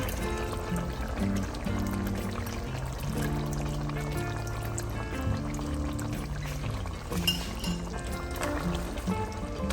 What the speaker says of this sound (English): at this point, I'm going to put some of tamarind water